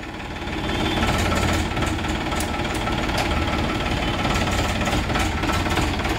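A Farmtrac 35 Champion tractor's diesel engine, about 38 hp, runs at a steady, loud, knocking chug throughout, close by, with no talking.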